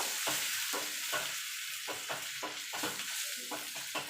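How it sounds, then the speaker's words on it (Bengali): Bottle gourd peel frying with onion and green chilli in a pan, a steady sizzle broken by repeated scraping stirs in an irregular rhythm, close and fairly quiet. "এবার পেঁয়াজটা আর কাঁচা লঙ্কাটা দিয়ে দেবো। এবার এইটাকে আমি মিনিট 5 ধরে"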